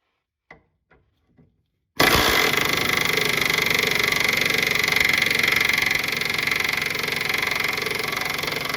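A power tool loosens the 17 mm rear suspension bolts under an EK Honda Civic. A few faint taps come first, then a loud, steady rattling whir runs nonstop for about seven seconds.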